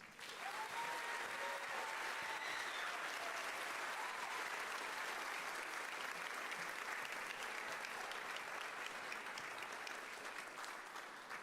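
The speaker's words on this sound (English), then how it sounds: "I think everyone deserves another round of applause" Sustained, even applause from a large audience at a middle school band camp concert, dense and steady for the full stretch with faint cheering tones near the start.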